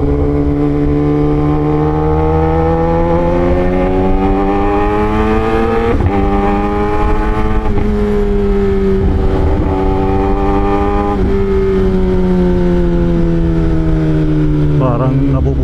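A loud car engine roars steadily throughout a ride on the Superman attraction, its pitch rising and falling with several sharp shifts, continuous and close.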